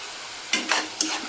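Garlic paste stirred into spinach curry frying in a pan, with three short scraping, sizzling strokes over a quiet background.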